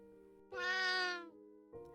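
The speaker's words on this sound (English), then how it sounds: "A multicolored cat jumped up on the desk in front of me" A single drawn-out cat meow, close and clear, rising then falling over about a second, used as a sound effect in a spooky storytelling audiobook, followed by quiet room tone.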